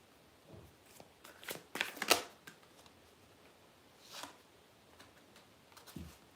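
Oracle cards are shuffled in a couple of quick papery riffling bursts, then a few softer flicks and slides of the deck, all close by in a quiet room.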